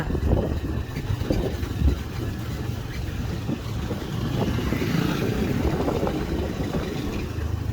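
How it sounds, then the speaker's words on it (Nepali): A scooter rides along a dusty road on the way from Kathmandu to Dhading, giving a steady engine rumble buried under heavy wind buffeting on the microphone for the whole stretch. "अहिले स्कुटर चलाउँदैछ"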